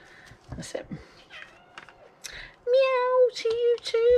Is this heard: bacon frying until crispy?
no